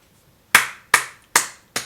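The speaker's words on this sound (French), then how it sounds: "j'applaudis, hein, franchement" One person claps four times in a slow, even rhythm, each clap sharp, close and loud, after a brief silence.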